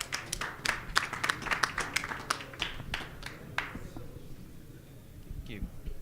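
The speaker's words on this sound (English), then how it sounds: "give a big round of applause to Eden Yago from cementDAO" Scattered audience applause for a cementDAO speaker, a few dozen claps at first that thin out and fade, with a voice coming in near the end.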